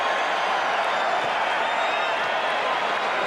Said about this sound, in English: Gets his first point and gets a cheer from the crowd.